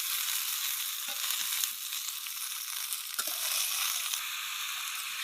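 Potatoes fry in oil with chopped onions and whole cumin, giving a continuous bright sizzle with a few faint stirring knocks, close and steady without speech.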